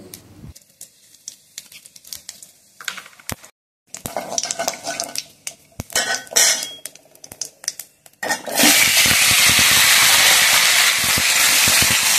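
Potato and papaya stirred in a wok of hot mustard oil tempered with cumin and bay leaf: scattered spatula clinks and scrapes give way to a loud, steady sizzling hiss.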